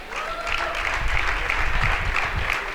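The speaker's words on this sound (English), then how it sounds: "Takes the applause from the audience." An audience at a men's 50m rifle three-positions final at a World Cup in Guadalajara applauds steadily, with dense, even clapping throughout and no voices standing out.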